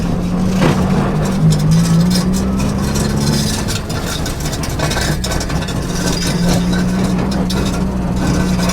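Honda Del Sol car engine running warm on the street, a loud steady hum with a low drone and slight pitch shifts as it revs and settles, with a person talking faintly over it.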